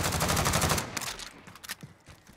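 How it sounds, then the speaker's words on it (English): Gunfire in Call of Duty Warzone on Fortune's Keep, a rapid automatic burst that rattles for about a second, then scattered single shots and distant pops fading out. "They're shooting at me."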